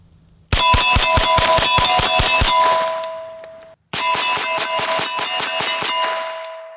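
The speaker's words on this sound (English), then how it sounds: "Let's do a rapid fire mag dump." A 9mm pistol fires rapidly through a full magazine at a steel target: two quick bursts of about a dozen sharp shots, each hit ringing out with a bright metallic clang that keeps sustaining, then a brief gap before the second burst.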